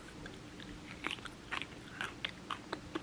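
Someone chewing a strange crunchy candy up close, with sharp crunchy bites in a loose rhythm, about eight crisp snaps over a quiet background with no talking.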